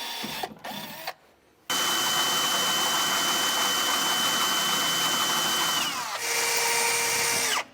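A power drill whines steadily and loudly as it bores through a 2020 Ram vehicle frame, after a few short starts and a brief pause, running for several seconds.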